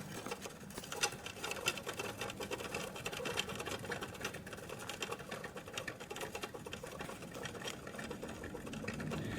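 A magnet rotor spins on a 6 mm wooden rod, producing a faint, quick, steady rattling whir that continues throughout.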